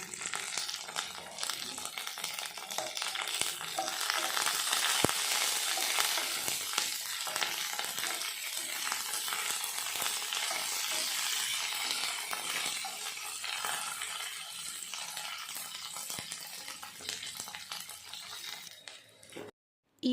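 Tempering of chana dal, curry leaves and chillies frying in hot oil, a continuous crackling sizzle with occasional stirring scrapes, steady and close, fading out at the end, no talk.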